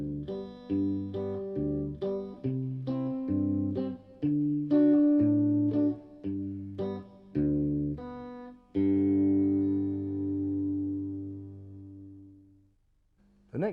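Guitar chords strummed one after another in a slow sequence, each ringing briefly before the next, with a final chord left to sustain and fade, moderately quiet and with no talking.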